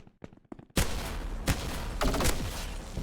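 Sawed-off shotgun firing in a video game, a few faint clicks giving way to a loud blast, then further heavy booming shots over a noisy, reverberant wash, with no talking.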